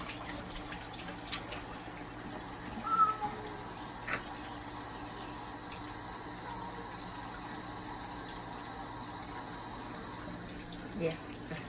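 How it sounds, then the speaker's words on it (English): A tap runs steadily while hands are washed before a physical examination assessment, a soft continuous wash of water with a few brief splashes and knocks, fairly quiet and heard alone. "So I'm going to wash my hands."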